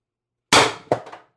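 CO2 airsoft gun with a 4x12g CO2 stock firing a 7.3 g Alien play BB, a single sharp, loud crack followed by a short metallic rattle and decay, with no talking.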